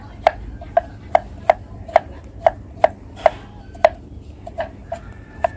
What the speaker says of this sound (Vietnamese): Mình sẽ dùng 2 tép tỏi ra, mình băm nhuyễn 2 tép tỏi này.